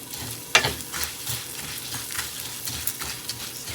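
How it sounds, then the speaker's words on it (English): Orzo pasta toasting in butter in a pan gives a soft, close sizzle with light stirring scrapes and a few small clicks, fairly quiet and with no talking. "I like to warm the pasta up with a little butter. Get it all nice and toasted."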